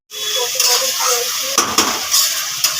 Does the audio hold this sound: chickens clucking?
no